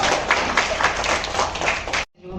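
Applause fills a hall at a felicitation programme for unsung COVID heroes in a Bhubaneswar hotel, a dense steady clapping from the audience that cuts off abruptly near the end.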